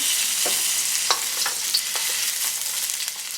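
A whole onion dropped into hot olive oil in a pan sizzles steadily and close, with a few soft stirring clicks and pops over the hiss.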